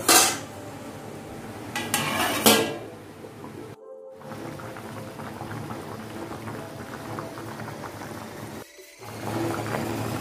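A pot of thin, oil-free chicken curry clanks and clatters as its lid is set on, followed by a low, steady simmering hiss from the covered pot.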